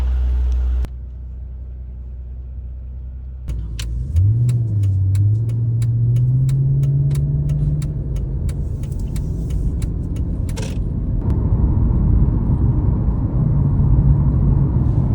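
A Mercedes CL65 AMG with an older 5G-tronic automatic gearbox that had lost drive pulls away after a short quiet spell. Its engine note rises, then settles into a loud, continuous rumble with faint ticking and jangling on top.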